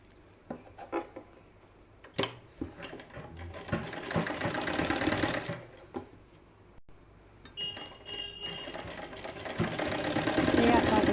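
A sewing machine stitches seams on a small girl's dhoti salwar, its motor whirring in bursts that build to a steady run, with clinks of handling in between and a voice talking over it.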